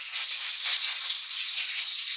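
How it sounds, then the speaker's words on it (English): Compressed air blasting debris off a Husqvarna 460 chainsaw carburetor, a loud close continuous hiss with slight fluctuations, steady for a couple of seconds. "Blow some schmutz off the carburetor"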